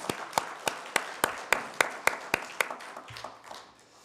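A church congregation at a Sunday worship service claps in a quick, steady rhythm of about a dozen sharp beats, fading out near the end.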